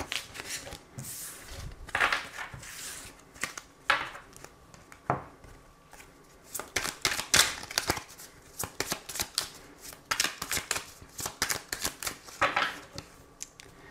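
Tarot cards shuffled by hand for a reading, giving repeated close, papery riffles and sharp slaps in uneven bursts that continue steadily for several seconds without talk.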